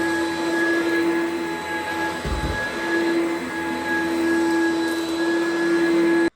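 An Oreck XL5 upright vacuum cleaner runs on carpet with a loud, steady motor hum and a strong whine, nearby and unbroken until it cuts off abruptly at the end.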